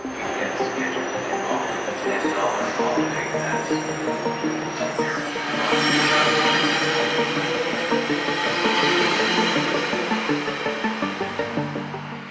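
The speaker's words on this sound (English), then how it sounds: "this Metrolink train would be departing the station" A Metrolink commuter train pulls out of San Bernardino Depot with a sustained rumble and high, ringing wheel squeal and screech, growing louder midway through and holding at steady strength to the end.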